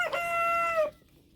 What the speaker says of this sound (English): these chickens, they're all scratching in this field